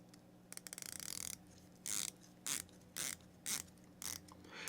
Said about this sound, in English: Let's listen to the bezel action because it sounds really good.